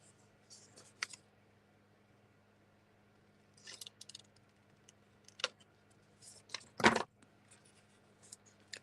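Scissors snipping paper from a 1946 cookbook for a junk journal, quiet scattered cuts with one louder close snip, faint background hum, no talking.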